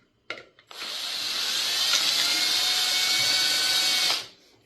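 A power drill drives a screw through a deer skull into a wooden taxidermy panel, a close, steady whirring burst of about three and a half seconds that is framed by brief clicks and handling sounds.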